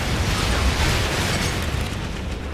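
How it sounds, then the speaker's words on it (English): Airstrike explosions in the Renegade Ops video game roar as a dense, continuous barrage of booming blasts, loud and near throughout with rumbling low end that barely lets up. "Hi guys, have fun with my airstrike."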